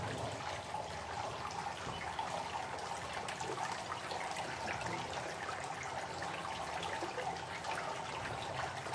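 Water drops through the tiered layers of a silver peacock fountain, making a steady, even trickle and splash that runs the whole time without a break, with no voices over it.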